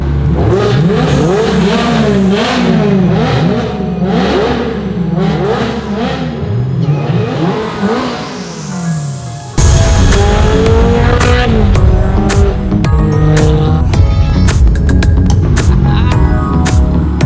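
A manual Ferrari Challenge Stradale engine revs loud and close while driving, rising and falling through the gears with a sharp jump in intensity near the end, no talk over it.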